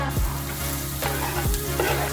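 Chopped onion fries in a pan with a steady, close sizzle and a few scraping stirs.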